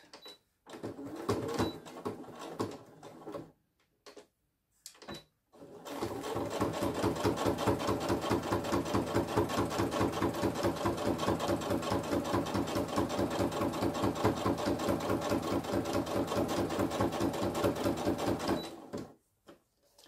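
Sewing machine stitching the bottom seam of a lined rectangular zippered pouch, starting after a few short taps and then running in one long, steady, rapid stitching run of about thirteen seconds, close by.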